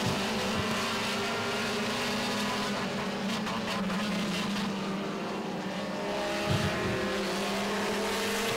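Race cars roar through a corner at Baer Field Motorsports Park, a sustained, distant engine drone with slight pitch sweeps as the cars bounce and accelerate out, steady without talk.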